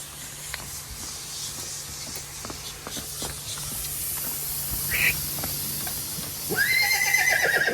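Horse whinnying at a crowded village fair in Gujarat, a single high neigh rising near the end over a steady background of crowd noise and scattered clatter.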